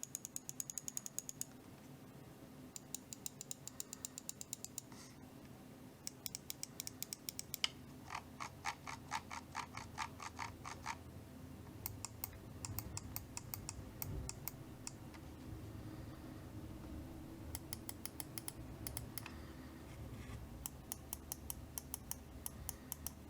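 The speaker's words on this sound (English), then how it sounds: "The mouse wheel has a really nice tactile scroll, and the click is really nice as well." Corsair Harpoon RGB wireless mouse wheel scrolling in quick, fine ratcheting runs of tiny clicks, broken by short pauses and occasional button clicks, all close-up and faint with no talking.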